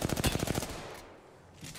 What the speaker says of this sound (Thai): ยิงกันเองข้างบน